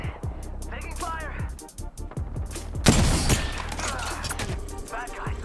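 Video game gunfire in a shooter match: bursts of rapid shots and sharp cracks, with a loud blast near the middle, mixed with game sound effects and a player talking over it.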